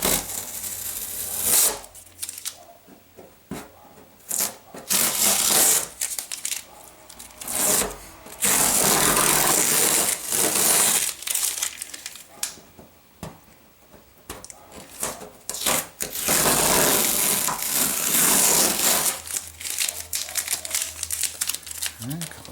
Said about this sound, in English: take off our tape.